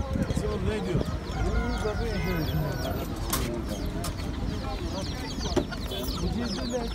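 Chickens cluck and crow at a poultry market in Taşköprü, Kastamonu, a busy chorus of clucks and calls from many birds in a noisy crowded setting, with people talking over the birds.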